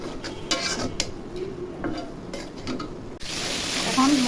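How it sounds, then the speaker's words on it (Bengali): Garlic and ginger paste, turmeric, chili, coriander, salt and cumin sizzling in a pan while a utensil scrapes and stirs them, with a few sharp metal clinks over a steady close frying hiss. "এখন মশলা ভাজা ভাজা হয়ে গেছে"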